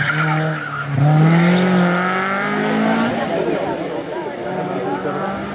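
Race car in a hill climb event screaming up the course, engine note climbing through gears with tire squeal, loud and near, while an announcer talks over it.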